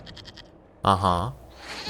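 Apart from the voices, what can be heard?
goat bleating in the video game Dragon Age Inquisition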